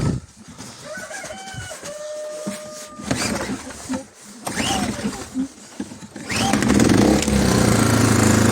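An inverter generator converted to run on methane (CNG) is pull-started, sputtering into a loud steady run near the end. Before it fires, a rooster crows and chickens cluck nearby.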